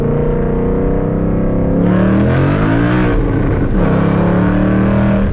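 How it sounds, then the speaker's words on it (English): A loud 800hp Whipple supercharged Mustang accelerating hard with instant wheel spin, a steady engine drone climbing sharply in pitch midway through and holding high and strained to the end, with no talk. "Oh yeah, that was instant wheel spin."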